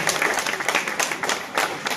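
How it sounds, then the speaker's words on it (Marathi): An audience at a drama competition award function claps together in a steady, moderately loud round of applause, individual claps pulsing through the continuous wash. "टाळ्या जोरदार असायला"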